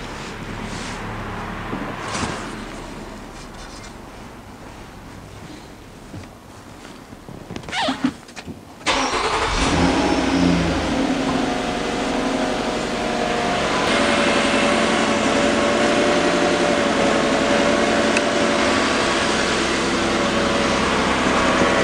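A 2010 Nissan Murano Z51 engine cranks and catches after a quiet stretch, then settles into a steady, close idle that continues for over ten seconds with no talk.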